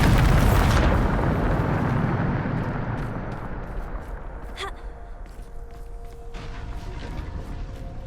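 A Bombarda spell blast in Hogwarts Legacy erupts loud and close as a booming explosion, then rumbles and decays over several seconds, with a brief crackle near the middle and faint lingering tones.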